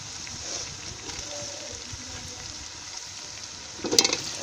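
Chicken feet fry in masala and ghee, making a soft, even sizzle that runs steadily, with a brief louder clatter near the end.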